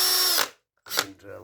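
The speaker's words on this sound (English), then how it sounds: "I'm just going to put these cups on to my Milwaukee drill" A Milwaukee drill fitted with wire brush cups runs on its second speed in two short bursts, a loud whirring buzz, a brief silent pause between them.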